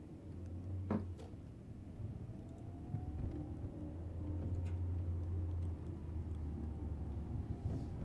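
A car engine in the horror game Fears to Fathom approaches outside the house, a low steady rumble that swells in the middle and stays muffled and distant behind ambient indoor noise.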